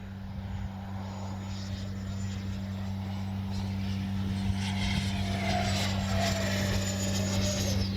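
A Freewing Zeus 90mm electric ducted-fan sport jet on 6S power passes overhead, its steady whooshing fan roar building gradually and staying loud and continuous throughout with no voices.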